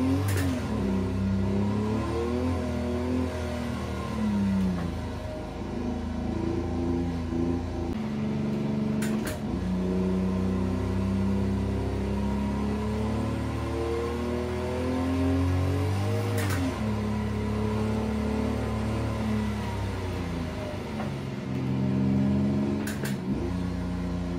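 A car engine in a sim racing game climbs a banked hill track, a steady mid-pitched drone with rising and falling rev harmonics running continuously and fairly loud, with brief clicks, and no talking.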